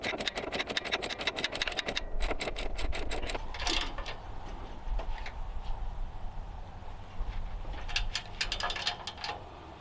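A ratchet wrench tightens bolts on the bagger mount of a Toro TimeCutter mower, its rapid clicking coming in close, loud bursts with short breaks over steady background noise.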